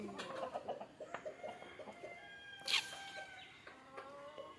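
Country chickens let out of their coop in the morning cluck in short, scattered bursts at close range, with one loud, brief rooster crow cutting through midway.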